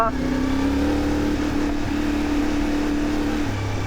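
CFMOTO 450MT motorcycle engine riding in second gear at a steady mid-range drone, a loud continuous hum that holds its pitch for several seconds, shifting down slightly near the end.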